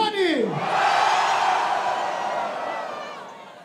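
At a Brazilian rap battle anniversary event, a host's call falls off into a long crowd roar for Big Mike and Johnny, loud and steady before slowly fading.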